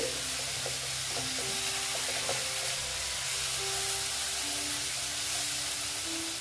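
Spice paste frying for katla fish curry: a dense, continuous close sizzle and hiss with faint stirring, steady throughout without pauses.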